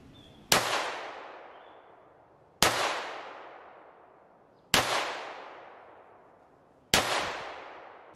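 Four loud, sharp gunshots from a gun fitted with an Olight Odin GL Mini light, fired one at a time about two seconds apart, each with a ringing decay outdoors and no talking.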